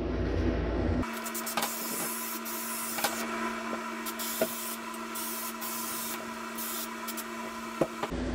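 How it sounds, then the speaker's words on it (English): Adhesive sprayed onto drywall and the edge of a fiberglass shower surround trim: a steady, close aerosol hiss running continuously for several seconds with small clicks and bumps, no voices. "we're going to spray both the wall"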